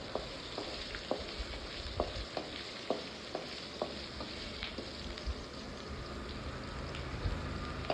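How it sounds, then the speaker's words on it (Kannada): Sliced green chillies fry in a pan with a steady sizzle, while a spoon stirs and scrapes the pan in a regular rhythm, close up and with no talking. "ಎಲ್ಲ ಹಾಕಿದ ನಂತರ ಫ್ರೈ ಮಾಡ್ಕೊಳ್ಳಿ."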